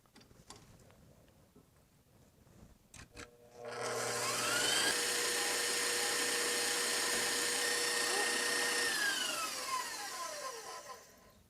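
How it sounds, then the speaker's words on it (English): An electric mixer whips egg yolks until they turn pale. After a few faint knocks, its motor kicks in with a loud, rising whine that holds steady and then tapers near the end. "you accelerate slowly the speed of the mixing until it turns really white"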